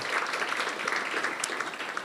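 A crowd at a medical community event gives a round of steady applause for the members of an advisory committee, many hands blending into a continuous, even clatter heard from the room.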